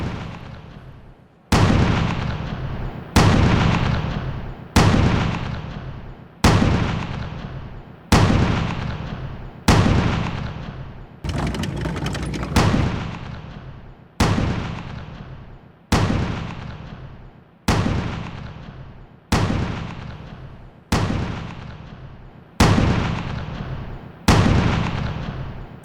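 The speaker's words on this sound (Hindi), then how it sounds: "शेलिंग के जरिए माइन से बच रहे हैं।" Artillery shelling around Donetsk during the war in Ukraine, a steady series of about fifteen heavy booming blasts at roughly one-and-a-half-second intervals, each sharp onset trailing off into a rumbling echo, loud and alone.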